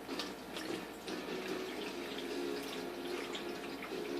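Juice poured from a container into a cup, a continuous splashing, trickling stream at moderate volume lasting several seconds without a break.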